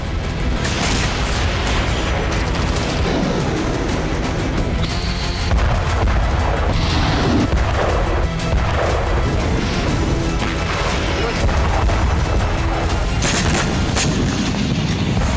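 Heavy artillery fire and explosions from a Russian assault on eastern Kyiv with tanks and rocket launchers, a dense, continuous barrage of booms and crashing blasts that stays loud for the whole stretch, with no voices.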